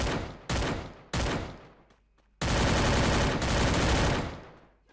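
Several loud gunshot bursts ring out in quick succession in the video game Free Fire, then a longer sustained volley of rapid fire, harsh and close, with no talking.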